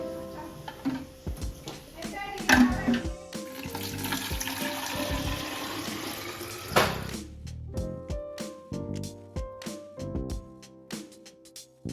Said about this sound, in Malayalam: ജസ്റ്റ് വെള്ളം കൊണ്ടൊന്ന് കഴുകിയാൽ മതി.